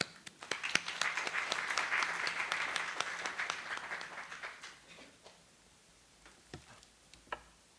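An audience claps to welcome a speaker at a university session, the applause swelling quickly, then thinning after a few seconds into scattered, fading claps and isolated final pats.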